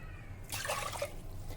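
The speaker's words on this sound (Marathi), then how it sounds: "आता यामध्ये पाणी घालूया। साधारण 2 वाट्या पाणी घालणार आहे।" Water poured into a pot of freshly washed moong dal in a home kitchen, a soft, close splashing that starts midway and continues steadily without talk.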